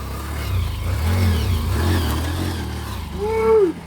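A vehicle engine labours uphill at Valli Chunai near Kanyakumari, a close, steady mid-pitched drone that swells into a rising rev near the end, with no voices.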